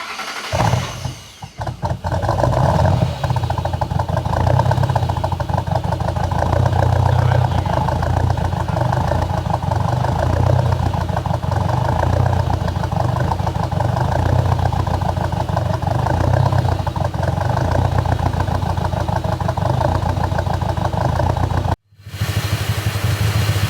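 A Roush-modified 2005–2009 Ford Mustang with a 4.6L V8, newly fitted with a Holley Sniper EFI intake, catches and settles into a steady, loud idle that runs on continuously before cutting off abruptly near the end.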